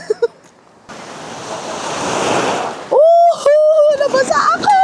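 Strong ocean waves on a rocky island shore surge in a loud roaring rush that swells then cuts off, followed by excited close voices and a high whistle-like tone over splashing water.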